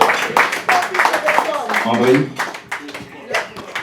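Scattered clapping from the audience at a press conference ahead of a royal gala, with sharp individual claps mixed with a voice speaking over them.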